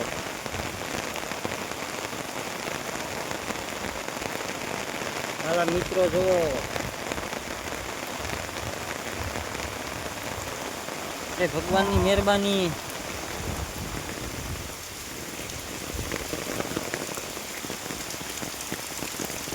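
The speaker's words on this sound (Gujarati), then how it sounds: "વરસાદ આપણે સારામાં સારો છે બધે પડી રહ્યો છે" Heavy rain falls everywhere on surfaces outdoors, a constant soft hiss of drops held at a moderate, even level, while someone speaks over it at a couple of points.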